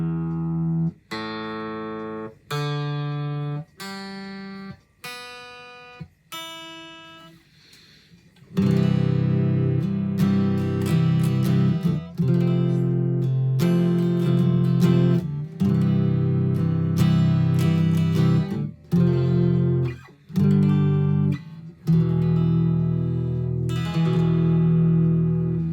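Japanese acoustic guitar: single strings plucked one at a time for tuning, each ringing briefly, followed by a chord strummed repeatedly in a loose rhythm, close and clear with no talking.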